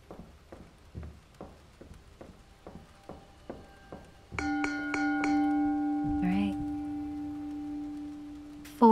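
Bells in the spot-the-difference game Ten Bells: a series of soft rhythmic taps, then a bright sustained bell chime rings out clearly with lingering tones, followed by a brief sweep.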